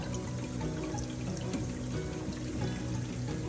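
Water trickles from the effluent line of a GEO calcium reactor during a pH probe change, a soft continuous pouring and dribbling sound, faint and steady, heard alone.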